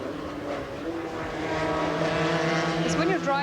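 Racing karts on a circuit, engines droning at a steady, slowly rising pitch as one passes close, with a faint voice over the engine noise.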